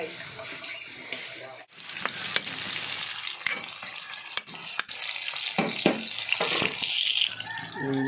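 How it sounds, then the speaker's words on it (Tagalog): Fish adobo of sea catfish simmering in calamansi juice instead of vinegar, a steady sizzling and frying hiss with stirring clatter and occasional water-like splashes, close and continuous throughout. "So ayan, i-adobo lang natin sa kalamansi yan."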